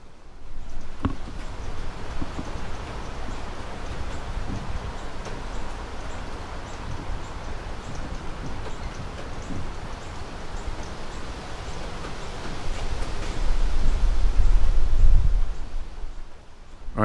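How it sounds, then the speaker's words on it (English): Wind blowing across an outdoor Audio-Technica AT822 microphone, a steady broadband rush with low rumbling buffets that swell louder near the end. "All right, you're hearing a bit of wind"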